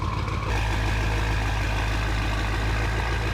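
A BMW M5 with a Valvetronic titanium exhaust running close and loud on its first drive, a dense steady low engine drone that swells after a brief opening moment, with faint higher turbo whine mixed in.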